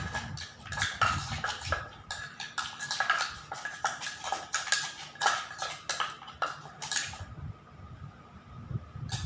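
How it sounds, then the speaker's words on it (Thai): Ingredients are mashed and pressed together in a bowl for a Thai-Lao home meal, giving a busy run of clattering, scraping knocks at close range that stops briefly near the end. "เราจะต้องบี้ ให้ส่วนผสมเข้ากัน"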